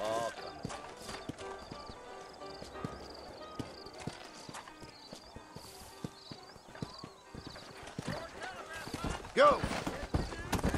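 Horse hooves clip-clop at a steady walking pace in the Red Dead Redemption video game, moderately close, while characters talk over them and a horse briefly whinnies near the end.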